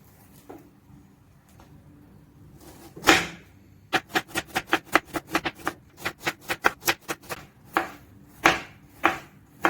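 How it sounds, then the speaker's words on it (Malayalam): An onion is sliced with a knife on a cutting board: a quick run of close, crisp chops in steady rhythm, with a few separate cuts before and after and no speech. "നമുക്ക് സബോള കട്ട് ചെയ്തെടുക്കാം കേട്ടോ"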